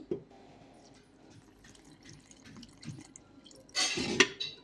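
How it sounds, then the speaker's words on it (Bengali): Milk is poured into a bowl of semolina, flour and sugar, giving a short, close liquid splash and drip near the end after soft kitchen handling sounds. "এবার একটু এই যে দুধ দিয়ে দিচ্ছি"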